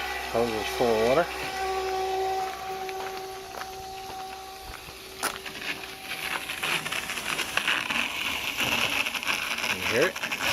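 An RV transfer pump runs steadily, pushing water from a tote through a flexible hose. It makes a continuous close whirring hum with splashy hiss, and people talk over it.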